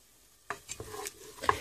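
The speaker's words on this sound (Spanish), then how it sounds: "Este método pues es para freír con poco aceite." Onion frying with a splash of broth in a pan for vegan eggplant meatballs, a soft sizzle with a few quiet stirring scrapes and clicks, close and faint, no speech.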